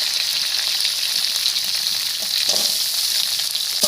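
Potatoes and gourd stalks fry in hot oil in a pan while a utensil stirs them. A loud, continuous sizzle runs throughout, with soft scraping stirs breaking through now and then.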